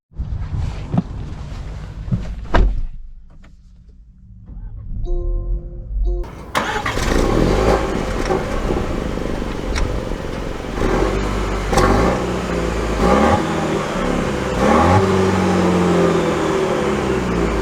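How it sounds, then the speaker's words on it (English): A 2023 Land Rover Defender 30th Anniversary Edition with a four-cylinder engine starts up, then settles into a steady, loud engine drone as it drives off, with no talking. "Let's take it out and see how it drives."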